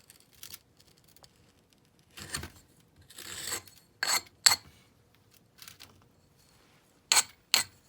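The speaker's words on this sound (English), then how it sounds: "Now we're going to scrape that off." Scraping red clay casting sand off a sand-cast skull mold, a series of short, sharp gritty scrapes in irregular bursts with quiet gaps, close and moderately faint.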